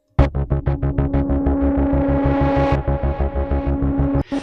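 A dark, menacing synth bass plays solo in a Komplete 9 production, a loud distorted throbbing line with quick pulsing repeats that then smooths into a sustained droning hum.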